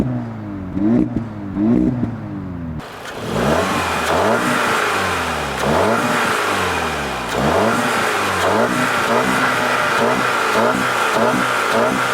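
A 2015 Audi S3 engine revs repeatedly, rising and falling in pitch with a deep, rough roar, quieter at first then louder and sustained.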